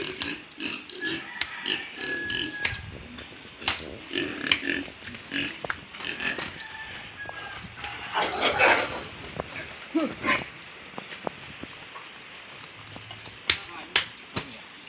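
A hungry sow eats kamias fruit: close wet chewing and crunching with soft grunts and snuffles, continuous and uneven, over faint background noise and a few sharp clicks.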